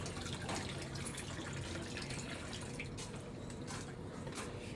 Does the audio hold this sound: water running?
yes